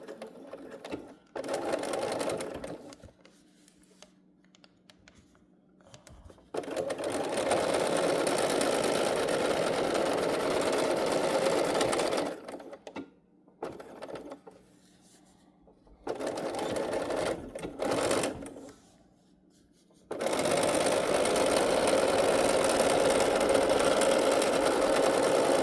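Sewing machine stitching and backstitching fabric in several loud bursts separated by pauses, running steadily at close range with no talk over it.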